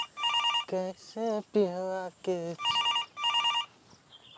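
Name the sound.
telephone ringing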